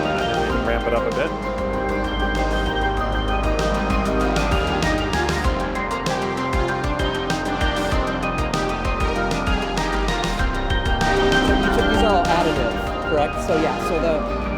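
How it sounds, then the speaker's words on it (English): Pinball soundtrack music for Swords of Vengeance built from interplaying arpeggios that run in and out of each other, a dense continuous layered arrangement at steady loudness over the full stretch, with no talking. "it's very much based on like these interplaying arpeggios, kind of running in and out of each other"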